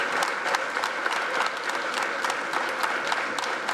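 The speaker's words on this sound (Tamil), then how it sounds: "கைத்தட்டு பத்தாது." A crowd at a Tamil debate event claps steadily and fairly loudly, a dense patter of many hands with no talking, sustained throughout.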